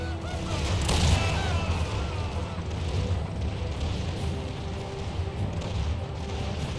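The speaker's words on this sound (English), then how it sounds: "Some artillery coming in." Artillery fire rumbles through a multiplayer battle in the Empire 2 mod video game, a dense, continuous roar of booming and crackling shots with one heavier burst early on, all at steady loudness.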